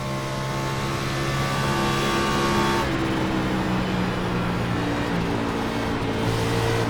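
NASCAR Xfinity race car engines roar continuously in the iRacing simulator on the Chicagoland oval, a dense, loud sustained drone with shifting engine tones as cars run close together, without talk.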